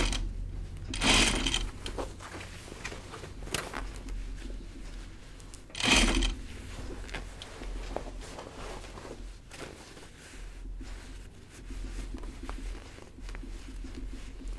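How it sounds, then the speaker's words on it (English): A sewing machine stitches an Audrey Jean jacket in short bursts of whirring, with two louder mechanical clunks and quiet handling noises between runs. "I'm gonna just start sewing and get it going"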